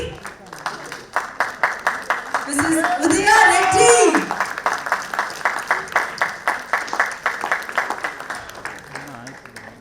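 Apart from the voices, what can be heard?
audience applause for women entrepreneurs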